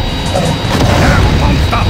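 Crystal cannon firing in the Godzilla: Unleashed Wii game, a loud, dense booming blast that fills the whole moment with rumbling noise, a voice faintly underneath.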